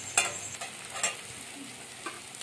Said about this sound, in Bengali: রসুনগুলোকে পেঁয়াজের সাথে ভেজে নেব ভালো করে